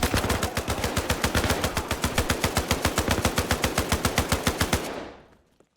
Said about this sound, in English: I just wanted to shoot some enemies with M60 quickly